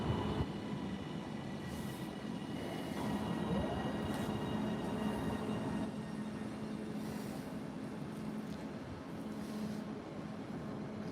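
Class 331 passenger train arriving at a platform, a steady rumbling roll with wheel and rail noise and a faint squeal, sustained at even loudness from start to finish with no voices.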